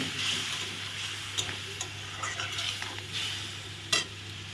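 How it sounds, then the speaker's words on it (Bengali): Spice masala with a splash of water and a little salt is stirred and cooked down in a pan for a boal fish head curry, giving a soft continuous sizzle broken by occasional scraping taps of the spoon, close and fairly quiet. "এখন একটু জল দিয়ে কষিয়ে নেব মশলা"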